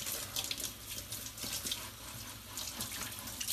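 Cold tap water runs steadily from a faucet over a beeswax food wrap being rinsed in a sink, a soft, continuous splashing hiss with small irregular drips and no voices.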